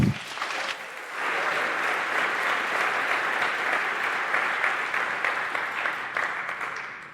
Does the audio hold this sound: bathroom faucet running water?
no